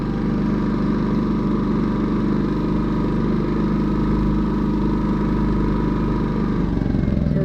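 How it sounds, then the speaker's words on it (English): Champion 3400-watt dual fuel generator running at about 80% load, a loud, steady engine drone with a deep low hum, close up and unbroken throughout, no talking. "Generator sound test with a full load, almost a full load on it"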